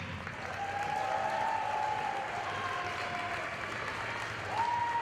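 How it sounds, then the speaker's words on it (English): Steady, sustained applause from a large crowd at a FIRST Tech Challenge state championship in Alaska, honoring Dean's List finalists, with scattered whistles and cheers riding over the dense clapping throughout. "One more huge round of applause for your Dean's List final."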